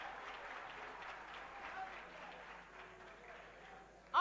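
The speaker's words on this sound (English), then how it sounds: "Let's give them a round of applause." Faint, distant applause for contestants at an NSMQ quiz between St Augustine, Anlo SHS and Kumasi High, a soft steady patter of clapping with a low murmur underneath.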